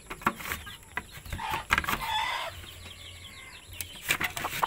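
A hen with a large brood of chicks clucks softly and irregularly amid scattered high peeping and rustling, all faint and close, with no steady rhythm.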